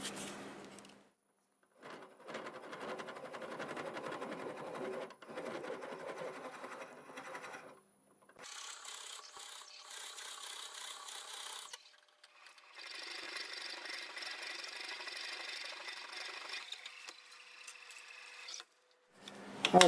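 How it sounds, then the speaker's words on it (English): A drill bores into rock-hard wood mounted on a lathe, giving sustained whirring and grinding runs separated by short silences, fairly quiet and close, with no voices. "I don't think it'd be cheating if I drilled a hole in there and make life easier"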